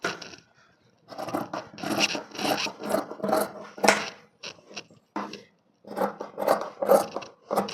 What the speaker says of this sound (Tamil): இப்போ ஸ்லீவை கட் பண்ணிக்கலாம்.